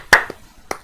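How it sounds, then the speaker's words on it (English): A few hand claps in a podcast conversation, two sharp broadband bursts and a softer one, close and brief, with no other sound between them. "Round of applause."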